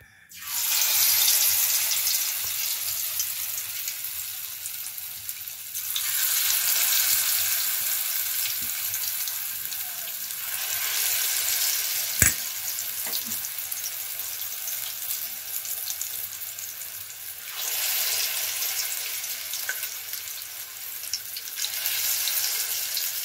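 Oil being heated and frying in a kadai, a loud steady hiss and crackle that swells and eases in several waves, close to the pan, with a single sharp clink partway through and no talking.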